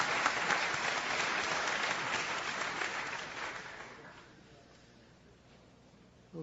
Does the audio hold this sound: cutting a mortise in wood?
no